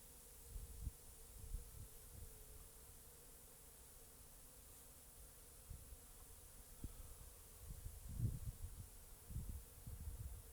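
Honey bees buzzing around an opened hive frame in a savanna apiary, a faint continuous low hum with louder bursts as individual bees pass close by, no talking.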